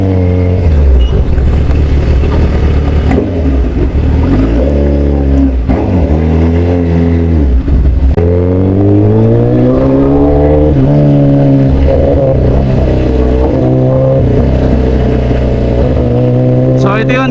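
Congested road traffic in San Pablo City, with engines idling and revving nearby, vehicles accelerating and passing in waves, loud and continuous throughout.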